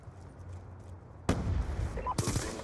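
Rapid bursts of MTAR rifle gunfire in Black Ops 2, quiet low ambience at first, then a loud, close fusillade starting abruptly and another sharp burst shortly after.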